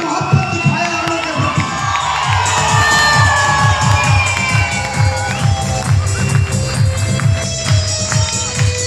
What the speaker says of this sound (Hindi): जोरदार ताली, सीटी, हल्ला हुड्डी कर सकते हैं